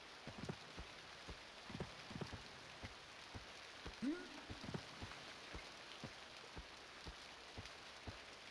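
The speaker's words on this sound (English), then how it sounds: "It's wet and slippery, it's raining." Steady rain patters down in EverQuest (Project 1999), a soft even hiss with scattered droplet taps, fairly faint and unbroken throughout.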